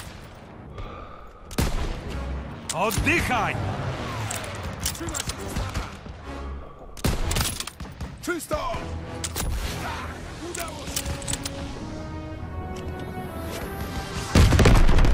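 Repeated sharp gunshots and bursts of Call of Duty: WWII gunfire, with booms and impacts, mixed with voices shouting and talking throughout, during a church assault mission.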